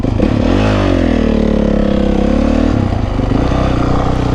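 A motorcycle engine revs loudly and steadily close by during beginner wheelie practice, its pitch climbing and then settling back under sustained throttle.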